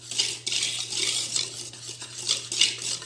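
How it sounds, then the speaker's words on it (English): A whisk works dry ingredients and granulated sugar in a big mixing bowl, giving continuous close, gritty swishing and scraping strokes with a faint steady hum underneath. "I'm just going to whisk my dry ingredients together in this big mixing bowl"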